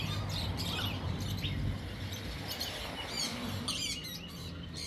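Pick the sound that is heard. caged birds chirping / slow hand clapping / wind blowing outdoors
caged birds chirping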